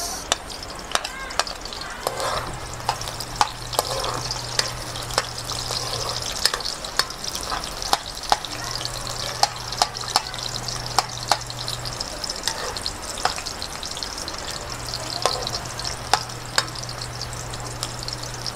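Onions sautéing in a pan for pakbet, a steady close sizzle with repeated sharp clicks and scrapes of a spatula stirring, plus a low hum coming and going in the background.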